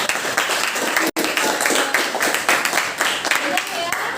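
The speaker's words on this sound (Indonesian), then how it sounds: "beri aplaus untuk Dimas" Classroom of students applauding a classmate, a dense, loud burst of clapping lasting several seconds with a brief cut partway through and voices mixed in.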